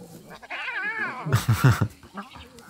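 A domestic cat meows up close, first with a long wavering drawn-out call, then with a burst of shorter, louder, strained cries.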